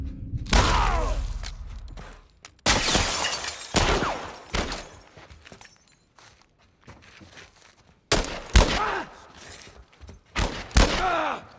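Gunfire in the video game The Last of Us Part I comes as several sharp, loud blasts with shattering, debris-like crashes and ringing tails, spaced out by quieter gaps.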